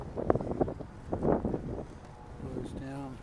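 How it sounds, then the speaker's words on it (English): Night wind blowing down the Delaware River valley while bicycling, buffeting the microphone in low rumbling gusts, with a voice talking over it. "The nature of the geography is wind blows down the Delaware, and it's coming way out of the Catskills."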